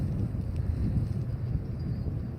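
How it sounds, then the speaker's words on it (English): Wind buffets an outdoor spot on a windy day, a steady low roar and rumble against the microphone throughout, with no speech. "As you can see, it is windy today"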